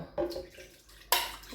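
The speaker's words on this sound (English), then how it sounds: "We're going to open our blender, and we're just going to pour the water" Liquid from a can of chickpeas poured into a blender, two short splashy bursts of liquid, quiet and close.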